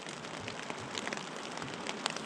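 Light drizzle pattering steadily on a tent tarp outdoors in March on Salt Spring, a continuous soft hiss with scattered tiny droplet ticks, faint and even throughout.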